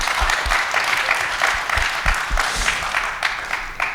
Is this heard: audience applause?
yes